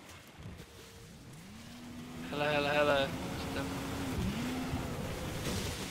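Motor of a small watercraft scooter in Battlefield 4 revving up briefly and then droning steadily near the listener over water and wind, while a player talks over it.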